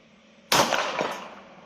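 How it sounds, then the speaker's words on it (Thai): A single sharp handgun shot, the first fired double-action with the right hand from a double/single-action pistol or revolver, bursts out loud and close after a quiet lead-in, then rings off with a brief decaying tail. "ผมจะยิงนัดแรกเนี่ยด้วยไกดับเบิลก่อนนะครับ ด้วยมือขวา"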